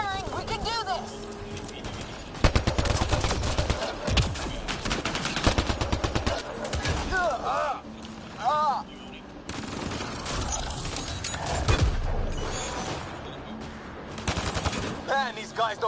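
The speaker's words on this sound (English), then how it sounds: "Just keep firing, we can do this!" Video game gunfire in Andromeda, rapid bursts and sustained automatic fire in busy clusters amid a loud battle, with shouting voices cutting in between the volleys.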